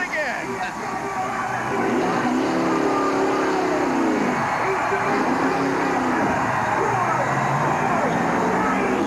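Alan Kulwicki's race car loops backwards around Atlanta Motor Speedway in a reverse victory lap, a steady engine drone rising and falling, mixed with loud crowd noise and a commentator talking over it.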